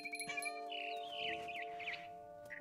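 A mama bird chirps in What Remains of Edith Finch, with bright, wavering tweets rising over a steady tonal music bed. A few short chirps come first, then a longer run of warbling calls.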